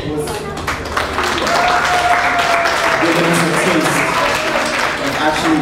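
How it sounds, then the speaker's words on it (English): Audience applause at a Caribbean-themed unity festival and art showcase at a college, a dense, steady roar of clapping that swells after a second and carries on loudly, with voices mixed in. "let's give a round of applause to Kelly"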